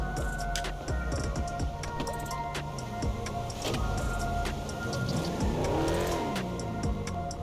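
A car driven in the video game GTA 5, with a steady engine drone and revving that rises and falls, plus ticking and clicking game sounds throughout.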